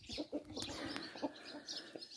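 Wyandotte chickens cluck softly in short, irregular bursts, close by amid rustling and scattered chirps, with no talking.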